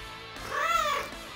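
A single drawn-out meow from a cat in the visual novel game Princess Evangile, clear and close, rising and falling over a faint background music bed.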